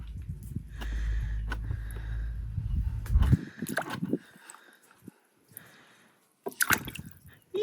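A baby splashes water with a few soft, close slaps and drips, following a low rumble, with quiet gaps between the splashes.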